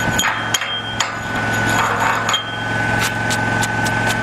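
Sharp metallic taps and clinks as slag is knocked off a flux core weld on quarter-inch steel plate, a few distinct hits over a steady electrical hum, close and fairly loud.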